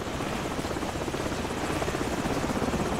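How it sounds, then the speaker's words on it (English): A steady, loud helicopter hovering close by in Call of Duty 4: Modern Warfare, its rotor chopping continuously with no talk over it. "The helicopter's back."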